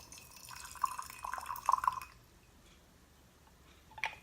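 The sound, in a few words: boiling water poured from gooseneck kettle into teaware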